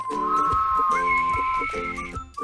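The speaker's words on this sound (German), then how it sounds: "Da hat doch etwas gepfiffen." A whistled tune for a children's animal story about a rhinoceros, with clear sustained tones that slide and hold, set over a soft rhythmic musical backing, close and loud.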